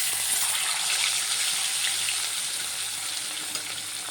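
Two roe-filled hilsa fish fry in hot mustard oil seasoned with a pinch of turmeric, giving a steady, dense hiss that holds at an even level throughout, with no voices.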